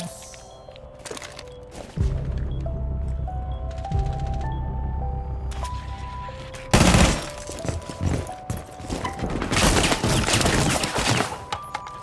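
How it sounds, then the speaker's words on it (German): Gunfire tearing through walls in Rainbow Six Siege, with rapid bursts of shots and impacts following a stretch of steady tonal game sounds, loud and dense toward the end. "Werde ich auch hart durch die Wände beschossen."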